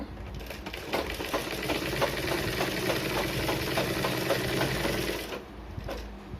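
A sewing machine stitches a blouse lining in one steady, rapid run of mechanical clatter, close and continuous, before slowing and stopping near the end.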